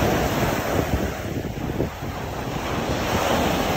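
Wind buffets the microphone at a cold, windy winter beach in Nanaimo while waves and surf roar steadily underneath, a loud, continuous rush with no talking.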